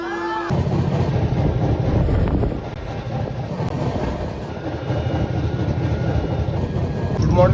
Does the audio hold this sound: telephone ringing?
no